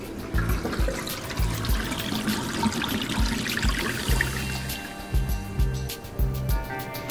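Portable washing machine draining, a steady rushing gurgle of water with an irregular low churning pulse running throughout, fairly close and continuous.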